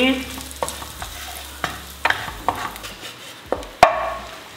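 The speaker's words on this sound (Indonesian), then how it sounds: "Oke, kita aduk lagi." Scrambled eggs are stirred in a frying pan with a bit of sesame oil, giving a soft sizzle under a series of sharp utensil scrapes and clacks against the pan, close and irregular.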